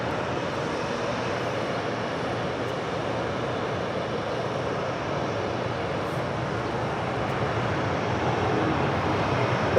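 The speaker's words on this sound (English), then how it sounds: "The Asiana Airlines A380 about to touch down on 24 right, coming in from Seoul" An Asiana Airlines Airbus A380 arriving from Seoul touches down on runway 24 right at LAX, a broad roaring jet rumble that stays loud and steady, swelling slightly toward the end, with no talk.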